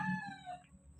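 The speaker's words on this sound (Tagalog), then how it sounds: "Mga sisiw." Chickens on a farm, including a rooster crowing loudly up close in one harmonic call with clucking fowl mixed in, brief and alone with no talk.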